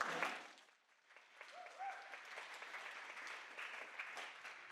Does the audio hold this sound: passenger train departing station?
no